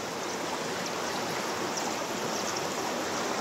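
Strong river current rushing over rocks on a rapids stretch near a waterfall, a dense, constant roar of water that stays steady and close throughout with no voices.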